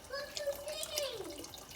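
Broth pours into a soup pot with a soft, steady liquid splash, while a voice talks over it throughout.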